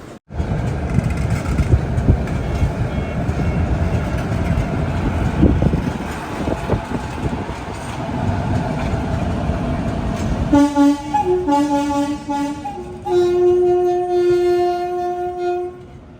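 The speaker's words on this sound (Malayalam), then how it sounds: "ചെന്നൈ എഗ്മോർ റെയിൽവേ സ്റ്റേഷനിലേക്ക് ഇതാ നമ്മുടെ ട്രെയിൻ എത്തിക്കൊണ്ടിരിക്കുകയാണ്." A train rumbles and clatters loudly as it rolls in, then its horn blares in several long, sustained toots near the end.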